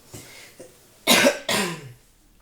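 A few hard coughs close up, two loud bursts after softer throat sounds, with no talking.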